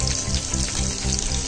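Beans frying in plenty of hot oil beside chicken leg quarters in a pan, a loud, dense, continuous sizzle heard up close with no talking.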